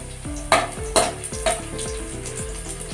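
Whole garlic cloves fry in hot oil in a pan, a soft crackling sizzle broken by several quick metal stirring clinks and bumps, close and moderately quiet, no talking.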